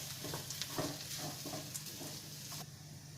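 Grated coconut sautés with onions in a pan, giving a soft, steady sizzle with gentle stirring scrapes at a close but quiet level, with no voices.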